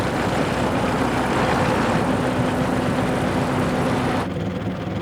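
A 1915 Hispano-Suiza car powered by an 18.5-liter V8 World War I aero engine rumbles loud and close just off idle, a dense continuous drone with a steady low hum that cuts off sharply near the end.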